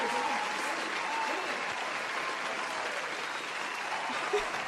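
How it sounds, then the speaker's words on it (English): Steady, dense applause from a crowd during a live piano stream, continuous and even for the whole stretch with no voices over it. "Thank you for the claps."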